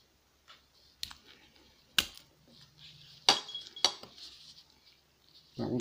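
Glass top of a tape-wrapped bulb broken carefully with pliers: a few sharp, isolated clicks and crunchy snaps spread over quiet gaps, close and fairly faint, with a rustle at the end.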